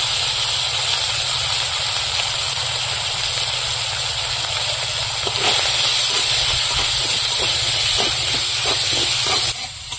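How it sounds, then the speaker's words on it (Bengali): Crab fries in hot oil with salt and turmeric, giving a loud, continuous sizzling hiss, with a few light clatters of stirring toward the end. "কাঁকড়াটা একটু লবণ হলুদ দিয়ে ভেজে নেব।"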